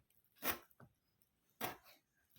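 Two sharp knife chops on a board as duck skin, liver, kidney and offal are cut into small pieces, about a second apart, with a softer tap between them, in an otherwise quiet space.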